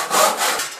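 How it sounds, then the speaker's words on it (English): Handsaw cutting through a clamped piece of wood on a saw bench, a close, steady rasping stroke that swells and eases across the short span, with no talking. "If I wanted to saw this piece of wood all the way down"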